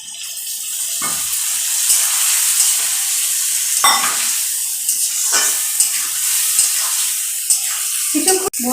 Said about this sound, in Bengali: মশলাটা দিয়ে আমি কষিয়ে নেব